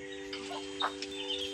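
Chickens cluck in short, separate bursts on a farm where ducks are also kept, close by and fairly quiet over a steady background hum.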